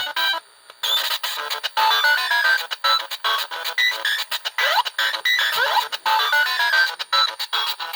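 Harsh, high-pitched Game Boy chiptune bleeps and glitchy tones play loudly through a stereo amplifier at full volume in choppy bursts with sudden dropouts, sounding shrill and piercing.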